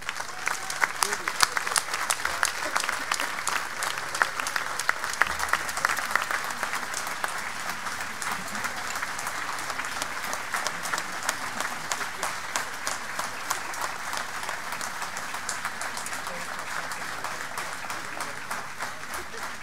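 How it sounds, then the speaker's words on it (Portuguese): Sustained audience applause after a wind band concert in Antas, Esposende, Portugal: dense, even clapping from a large crowd that carries on for the whole stretch without fading. "para quem vos peço um enorme aplauso"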